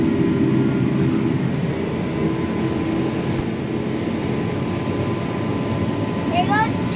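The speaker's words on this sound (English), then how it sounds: "There goes the tractor." A John Deere 9570 RX tractor works a soybean harvest, its low engine rumble a continuous loud drone close by throughout, with faint higher squeaks near the end and voices talking over it.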